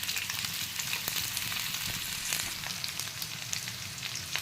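Chopped tomatoes sauté in oil in a pan for Tamil-style potato and pea masala, giving a steady, close sizzle and frying crackle with faint stirring and no talk.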